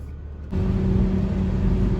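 A 2021 Toyota Supra GR engine on the move, starting quiet and then swelling into a steady, close, rumbling drone that holds for the rest of the moment.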